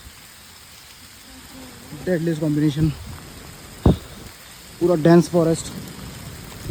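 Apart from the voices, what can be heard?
rain falling on the Rudranath trek forest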